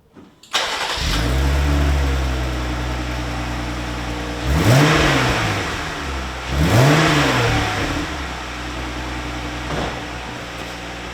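A Jeep Gladiator with a muffler delete and Dynomax Quiet Crawler exhaust starts and settles into a loud, deep idle, then two sharp throttle revs swell and fall, followed by a smaller blip, close up with no talking.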